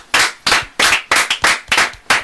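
A church congregation at an evangelical service claps together in a steady, rhythmic beat, each sharp burst of claps close and loud, with no talking.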